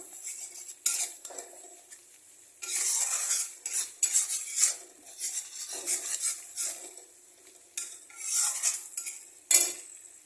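A utensil stirs chicken masala in a pan, with close metallic scraping and clinks in irregular bursts and quiet pauses between them, over a faint sizzle and no talk.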